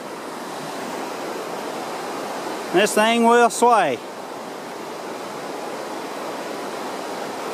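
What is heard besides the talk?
river flowing below a swaying footbridge on a hiking trail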